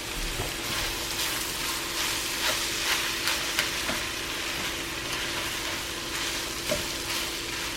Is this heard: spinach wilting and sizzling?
yes